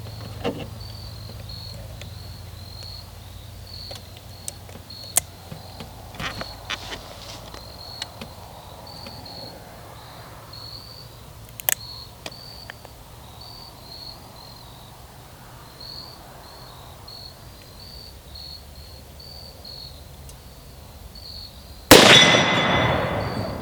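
Shots from an S&W 460 Magnum revolver sound as a few sharp, distant cracks spread across an otherwise quiet outdoor scene filled with steady insect chirping. A louder blast bursts in close near the end.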